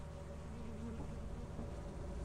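Bees buzzing in a video game near a launching ship, a steady droning hum under a low constant background tone, with no talk.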